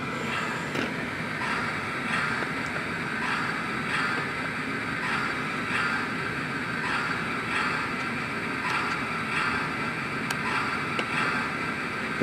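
The sound system of a Polar Express model train plays its engine running sound, a continuous chugging, hissing rumble that stays steady and fairly loud throughout, with no talking.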